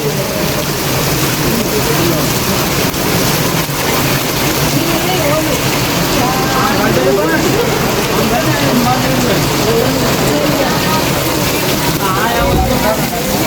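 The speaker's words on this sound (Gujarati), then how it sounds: "તો કન્ટિન્યુઅસલી વરસાદ આવે છે" Steady, dense rain pours continuously, a loud broadband hiss with muffled background activity beneath it and no pauses.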